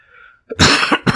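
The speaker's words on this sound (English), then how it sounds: "sorry for coughing" A couple of loud, close coughs in quick succession, harsh and breathy, with a faint tone beforehand.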